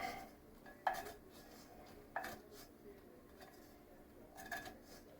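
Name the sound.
taking bacon out of a pan with a utensil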